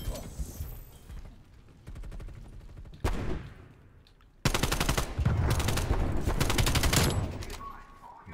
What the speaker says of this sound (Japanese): まあ、なんとなくドラム缶を撃ってみたけど